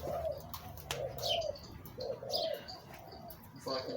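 Wild birds in a backyard give soft, low dove-like coos that repeat in a steady rhythm, with a few brighter chirps over light outdoor background noise.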